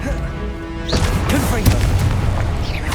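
A spell blast from the Hogwarts Legacy video game bursts in with a sudden boom, followed by crackling magical impact and game effects that keep ringing loudly to the end.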